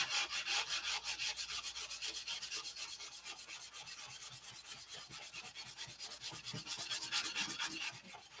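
Steady, continuous sanding of a thick applied finish, a dense rhythmic scratching rub that runs close and fairly loud throughout without any voices.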